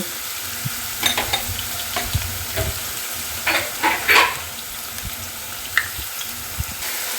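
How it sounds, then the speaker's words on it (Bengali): Onion paste from one large onion frying in a pan with garlic paste, a steady sizzle broken by repeated clattering stirs and scrapes of a utensil. "এর সঙ্গে যে পেঁয়াজটা পেস্ট করে রেখেছিলাম, একটা বড় পেঁয়াজ, সেটা আমি দিয়ে দেব।"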